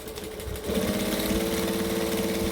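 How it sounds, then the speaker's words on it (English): Sewing machine stitching a bag seam, a steady whirring motor with a fast regular needle pulse that picks up speed and holds it, close and alone. "Stitching, stitching, stitching."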